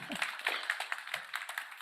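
Faint applause from an audience at a startup innovation awards final, a light scatter of claps from a modest crowd, brief and somewhat distant.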